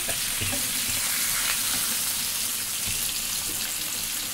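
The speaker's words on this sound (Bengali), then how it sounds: "এই যে মাছ ভাজা বসে কড়া করে বেজে নিচ্ছে" Fish fries hard in a pan, a dense, continuous crackling sizzle of hot oil at close range, steady throughout with no talking.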